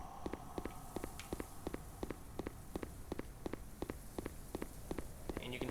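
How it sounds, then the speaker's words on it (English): Footsteps in the video game Bevontule tap out a steady, even walking rhythm of light, crisp steps over a faint continuous hum of in-game ambience, with no voices. "And you can hear the footsteps"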